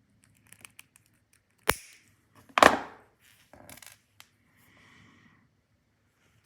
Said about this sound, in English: And then I'm going to cut off the excess wire.